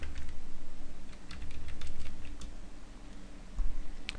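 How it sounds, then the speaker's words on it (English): Fingers type on a computer keyboard in short bursts of crisp clicking keystrokes, close and clear over faint background hum, with a brief pause near the end and no talking. "for this tutorial I'm just going to type in Joe Themes"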